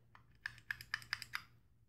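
Five or six crisp, close clicks from pressing the button of an Anarchist V3 competition mechanical mod, tapped in a quick, slightly uneven rhythm against a quiet background.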